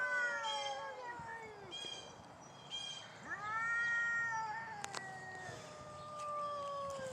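A stray cat with a worn, broken collar meows repeatedly, with several drawn-out, wavering calls rising and falling, fairly close and loud over a faint outdoor background.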